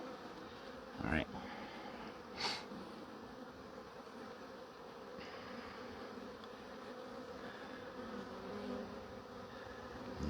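A honeybee swarm hums in a faint, continuous buzzing drone, broken by a couple of brief knocks, with occasional quiet voices nearby.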